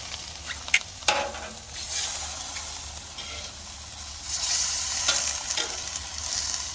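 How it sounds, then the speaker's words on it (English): Miso mushrooms sizzle steadily on a grill alongside miso cod, shrimp and vegetables, with a few sharp taps and clicks as pieces are flipped, close and fairly faint, with no talk. "we're going to go ahead and flip these around so they give them a really nice color"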